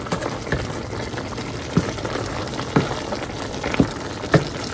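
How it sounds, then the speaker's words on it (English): Water in a cooking pot comes to a boil for a family dinner, a steady bubbling hiss with a few louder pops and splashes spaced every second or so. "Okay, guys, it's starting to boil."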